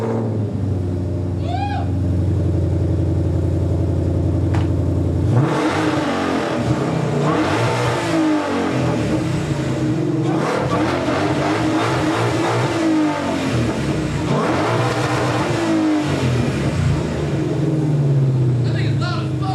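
A low Lamborghini sits idling with a steady rumble, then its engine revs loudly in repeated surging bursts, with people talking and reacting over the roar.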